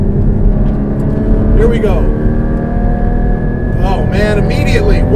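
A Porsche Cayman GT4 drones loudly and close on a race track, its mid-mounted engine holding a steady, rich hum with small pitch swells as it pulls, while someone speaks briefly over it.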